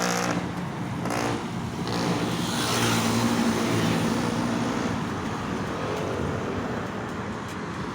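Morning road traffic streams past a cyclist commuting to work, a continuous roar of cars and heavier vehicles passing close by, swelling and fading slightly.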